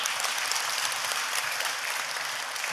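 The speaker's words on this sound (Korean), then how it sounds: "감사의 박수 한번 더 주시고" Sustained applause from a large crowd, dense and even, with no pauses.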